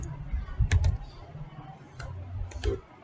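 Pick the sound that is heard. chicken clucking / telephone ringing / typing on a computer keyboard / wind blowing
typing on a computer keyboard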